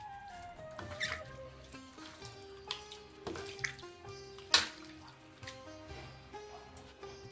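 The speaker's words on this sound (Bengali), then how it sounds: "লঙ্কা, রসুন, টমেটো সব এইভাবে ভালো করে মেখে নিতে হবে।" Boiled chillies, garlic and tomatoes are mashed together by hand for a Bengali eggplant dish, giving soft wet squelches and squishes with a few sharper smacks, close up under a tonal background.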